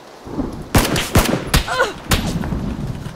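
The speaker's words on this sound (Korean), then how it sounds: "뒤에서 쏜다" Loud gunshots in PUBG Battlegrounds, four or five sharp cracks spaced irregularly with rolling echoes, close and punchy over faint background ambience.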